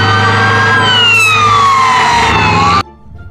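A loud toy fire truck siren wails with sliding, falling tones for nearly three seconds, then stops abruptly, leaving a faint voice.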